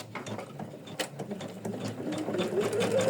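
An embroidery machine stitches a floral ornament with a fast, steady mechanical chatter of needle and gears. It runs continuously and close, with a faint whine rising near the end.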